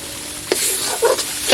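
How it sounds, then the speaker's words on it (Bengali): A spice paste frying in a pan, a close continuous sizzle with a few brief stirring scrapes and spatters, no talking. "বন্ধুরা আমার মশলাটা কষানো হয়ে গেছে দেখো"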